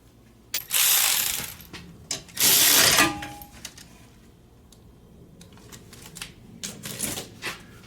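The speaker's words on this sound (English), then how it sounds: "So now we're gonna torque this." A torque wrench tightening a 17mm nut on the front strut of a Toyota Sienna, giving two loud sustained ratcheting bursts up close, then scattered softer clicks and metallic taps in a quiet garage.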